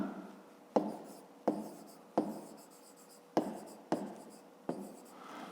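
Pen writing out a fifth-grade math exercise on paper, close and quiet, with a sharp tap every half second or so as each stroke begins, followed by soft scratching.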